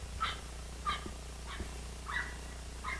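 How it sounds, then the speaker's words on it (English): Several dogs barking off to one side in a cemetery in Perry County, Indiana, about four short, fairly faint bursts spaced across a steady low outdoor background, with no talk over them. "Causing some dogs to cause a ruckus over here, so pardon the barking."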